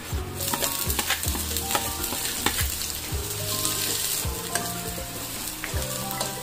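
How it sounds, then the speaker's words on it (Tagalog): Garlic and onion sautéing in a hot pan, a steady loud sizzle with repeated scraping stirs and clinks of the utensil against the pan, no voices. "Gigisa muna ako ng bawang. Isunod ang sibuyas."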